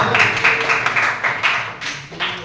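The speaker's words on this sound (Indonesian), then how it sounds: "Nomor 6, tepuk 6 kali" A classroom of students claps in unison, sharp, fairly loud beats in an even rhythm that carry over a constant room hum.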